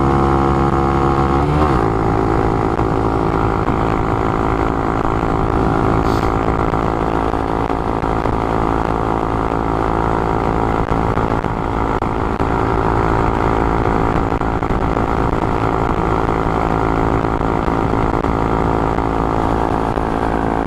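A Honda Monkey motorcycle with a Yoshimura full exhaust system runs flat out on a California interstate, a loud, steady, buzzing engine drone with one brief shift early on, near and continuous with no talking.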